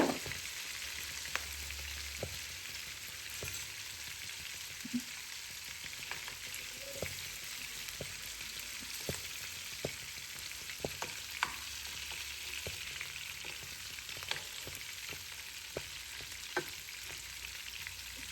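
Prawns for a curry fry in a pan with a continuous, close crackling sizzle, dotted with small pops and the odd scrape of stirring throughout, and no voices.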